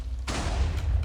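Explosions fired from a multi-shot bow in modded Minecraft, a sudden loud burst of several overlapping booms landing at once, then a rumbling decay.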